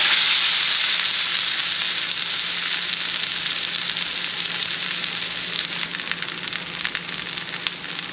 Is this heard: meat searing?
yes